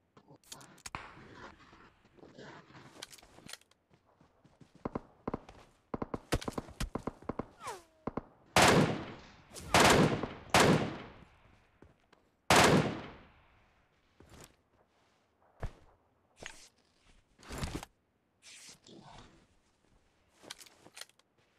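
Sniper gunfire in an online shooter game: several sharp, loud cracks spaced irregularly, with quieter clicks and handling sounds between them.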